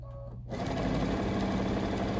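A sewing machine stitches along all four sides of a fabric bracelet for a quick kids' DIY project, starting after a brief quiet moment and then running steadily and loudly close by with a continuous mechanical whir.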